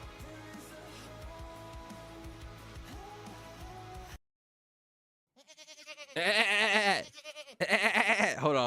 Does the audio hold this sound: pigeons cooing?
no